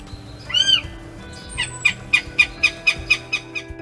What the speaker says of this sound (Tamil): நார்த்தன் கோஷாக்